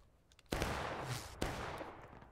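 Two sharp musket volleys crack out at a Civil War reenactment, the first half a second in and the second near 1.4 s, each trailing a rolling rumble of scattered shots across an open field.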